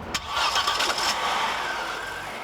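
A 1993 Audi S4's turbocharged 20-valve inline-five fires up with a brief sharp crank, then settles into a steady, close mid-pitched idle hum with no voices over it.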